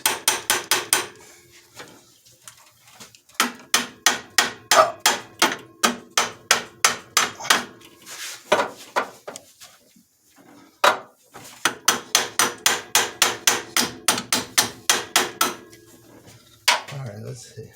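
Rapid bursts of metallic hammering, a makeshift tool used as a hammer while changing a tensioner and alternator on a 1998 Chevy K1500, clanging in fast regular runs, separated by brief pauses and a few scattered knocks.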